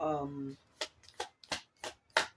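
A short voiced sound gives way to several quick riffling bursts, like a deck of cards being shuffled in repeated short strokes.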